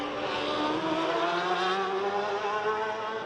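Davy Todd's race motorcycle at the Macau Grand Prix passing close at full speed, a loud sustained engine whine with a slight pitch sweep as it crosses the line.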